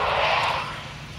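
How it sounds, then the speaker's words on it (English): A US Navy jet touching down on runway 4 at Southern Wisconsin Regional Airport in Janesville: a broad, steady jet roar that holds briefly, then eases off and fades. "he'll be touching down momentarily on runway 4 here at beautiful Southern Wisconsin Regional Airport"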